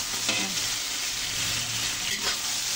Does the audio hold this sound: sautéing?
yes